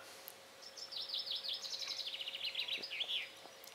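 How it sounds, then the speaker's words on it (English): A small bird sings beside the water at a quiet French fishing spot, a rapid warbling run of chirps and trills that lasts a few seconds over a faint low hum, and no voices are heard. "Sit here in the quiet, listen to the birds"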